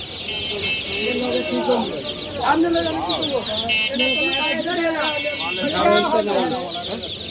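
Chickens cluck and crow at a bird market in Mirpur-1, Dhaka, a busy run of overlapping calls close by, with people talking throughout.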